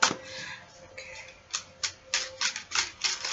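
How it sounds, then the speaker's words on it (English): Quick bursts of card riffling and flicking, several short rustling shuffles in a row, close and fairly quiet with no talking. "I like to talk to my deck, so I'm shuffling."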